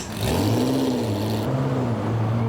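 A rare car engine at the 2003 Tour Auto idles and revs nearby, its tone rising then settling into a steady, throaty hum.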